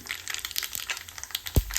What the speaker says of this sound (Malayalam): വെളിച്ചെണ്ണ ചൂടായിട്ട് കടുകിടാം